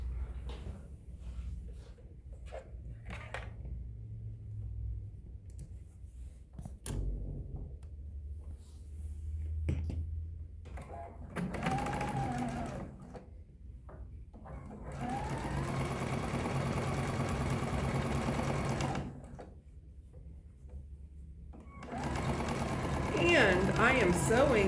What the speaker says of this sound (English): I am sewing on a Cloth Creative Icon 2, which is a sewing and embroidery machine